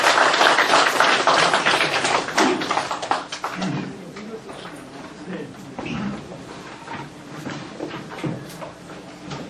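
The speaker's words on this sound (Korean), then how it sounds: "여러분 큰 환영의 박수를 부탁드립니다" A lecture audience at a philosophy colloquium applauds to welcome a university professor: dense, loud clapping that thins and fades after a few seconds, followed by quieter scattered sounds and a little talk.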